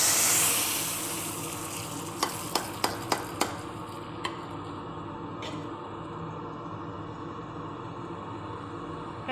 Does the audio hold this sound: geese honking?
no